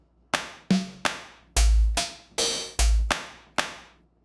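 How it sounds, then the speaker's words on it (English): An AI-generated fat indie clap drum sample plays as eight sharp, punchy hits in a loose pattern, some with a heavy low thump, each decaying quickly, loud and close with no voices. "Let's see what happens if I type in fat indie clap here into drum GPT."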